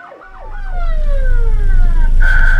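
An emergency vehicle siren wails through congested traffic, loud and close, with rising and falling sweeping tones over a low engine rumble and no talking.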